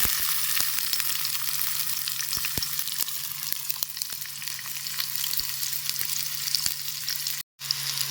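Shallots frying in hot oil, a steady crackling sizzle with scattered sharp pops and a low hum, briefly cutting out near the end.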